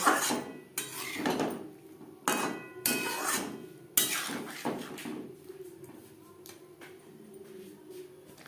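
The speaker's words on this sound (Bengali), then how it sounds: "মশলার সাথে সবজি বেশ ভালো করে মিক্সড করে দেব" Vegetables and peas being stirred with spices in a pan for navratan korma, heard as repeated metallic scrapes and clanks of a spoon against the pan in bursts, loud up close, then fading to quieter scraping.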